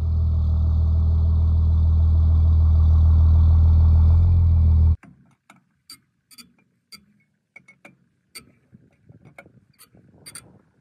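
A star wrench tightens trailer wheel lug nuts: after a loud steady engine drone cuts off, a series of separate sharp metallic clicks and clanks follows, spaced irregularly and close by.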